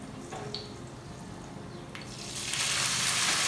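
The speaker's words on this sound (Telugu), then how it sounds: "నెయ్యితో కొంచెం ఫ్రై చేయాలి ఒక 1 ఆర్ 2 మినిట్స్ ఫ్రై చేయాలి" Cashews, almonds and raisins frying in ghee over a low flame, a soft sizzle that swells into a louder, bright crackling hiss near the end, with a few clinks of a utensil.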